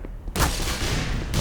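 A gun firing in the game Black Mesa, a sustained loud burst of shots that starts abruptly after a quiet moment and rolls on dense and close.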